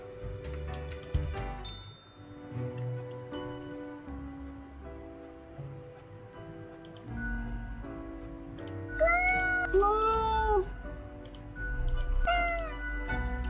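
A cat in the video game Death and Taxes meows several times in short rising and falling calls, clear over soft background game music.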